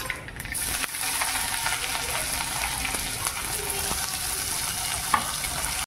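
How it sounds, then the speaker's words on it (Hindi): Onions and tomatoes frying in a pan with mustard seeds for poha, a steady sizzle with stirring and a few small clicks and pops, close and continuous. "मैं यहाँ पे प्याज और टमाटर को डाल दिया है और इस तरीके से इसको फ्राई कर लेते हैं"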